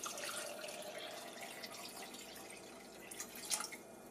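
Coconut water pours into a Nutribullet RX blender cup, a faint, soft trickling and splashing of liquid that continues quietly, with small drips near the end and no speech.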